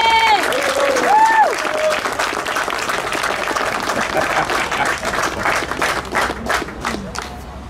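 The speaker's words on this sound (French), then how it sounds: "Vous pouvez l'applaudir chaleureusement." Warm applause from an audience at a 2018 awards ceremony in Wattrelos, dense, continuous clapping with excited voices calling out near the start, easing slightly toward the end.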